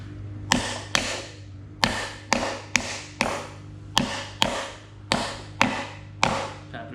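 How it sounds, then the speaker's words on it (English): A plate is tapped into place on a no-weld astromech droid ankle: about fourteen close, crisp knocks in a fairly even rhythm, each with a short ringing decay. "Tap it in place."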